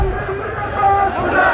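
A crowd chanting "Anil Vij murdabad" protest slogans, a dense, loud wall of many voices shouting together without pause.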